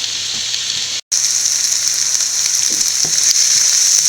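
Sliced onions sauté in a hot pan for an egg roast, giving a loud, continuous sizzle that briefly cuts out for a moment before hissing on steadily.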